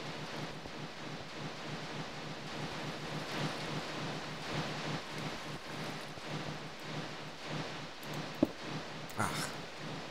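Rain falls on a rainy day in the Minecraft game, a steady broadband hiss over ten seconds with a few faint clicks and taps near the end.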